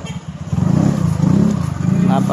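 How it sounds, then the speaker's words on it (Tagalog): Motorcycles passing along a busy street in Panglao, Bohol, with engine drone rising and falling as bikes go by close, and a person talking over the traffic. "Napakadaming motor dito."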